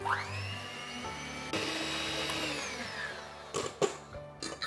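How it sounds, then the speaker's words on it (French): An electric hand mixer whisking three eggs with sugar, a high motor whine that rises as it starts and holds steady, then stops and restarts with short bursts near the end, close and clear. "je prends mon batteur électrique pour vraiment bien les fouetter"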